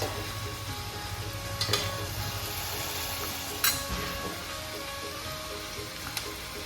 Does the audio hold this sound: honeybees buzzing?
no